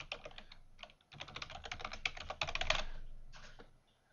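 Fingers type on a computer keyboard in short bursts of close, crisp key clicks, pausing briefly between runs.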